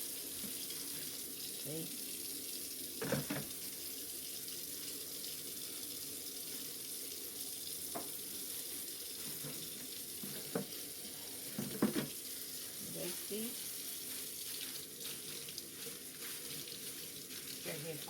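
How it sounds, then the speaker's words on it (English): Cold tap water runs into a kitchen sink while freshly made butter is rinsed and squeezed under the stream. The flow is a steady, faint hiss, broken by occasional soft clunks of handling, and a voice briefly speaks. "I'll take it to the sink and let's wash it under the cold water"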